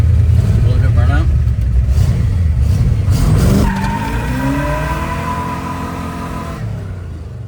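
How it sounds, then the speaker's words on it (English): A 1963 Corvette, a barn-find project car, roars through a burnout with loud, close tire squeal and screeching rubber over a heavy engine rumble that eases off toward the end. "Look at burnout."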